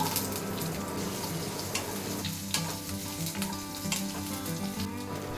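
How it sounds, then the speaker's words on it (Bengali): Potatoes frying in hot oil with chili and panch phoron spices: a steady, dense sizzle runs throughout, close and moderately loud, with faint stirring scrapes and no voices. "তেলটা গরম হয়ে গেছে এবার আলুগুলোকে ছেড়ে দিচ্ছি"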